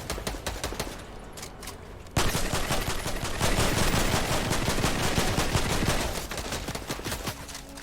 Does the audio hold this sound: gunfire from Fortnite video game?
yes